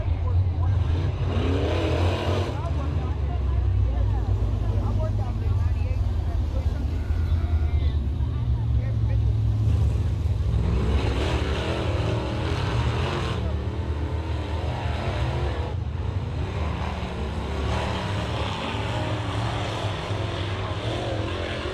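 Race cars circling a dirt track before a restart, a loud continuous engine drone swelling and fading as cars pass, with a commentator talking over it.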